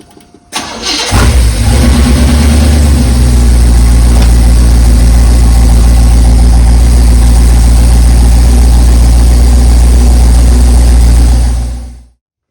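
A truck engine, fitted with a rebuilt power steering pump, cranks briefly, catches with a jump in loudness, and then runs loudly and steadily at idle up close before shutting off near the end.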